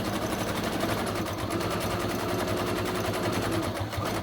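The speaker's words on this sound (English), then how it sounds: "I'm sewing, you know, 1/8 of an inch" A sewing machine stitches a seam on an armchair caddy, a close, fast, continuous mechanical rattle at a steady rhythm that runs unbroken from start to finish with no voices.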